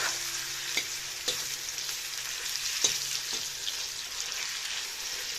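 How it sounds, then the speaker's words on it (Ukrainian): Steady crackling sizzle of meat frying in melted lard, with occasional soft clicks and scrapes of stirring; no voices. "М'ясо смажиться"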